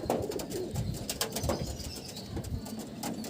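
Soft, low pigeon cooing repeats a few times over a steady rustling background, fairly close, with no voices.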